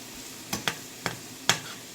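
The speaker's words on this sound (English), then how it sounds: "I'm just going to stir this around for another 2 minutes" A spoon stirs low-carb Cajun chicken and shrimp creole in a pot, making four quick scraping knocks against a soft background sizzle, close and fairly quiet, with no talking.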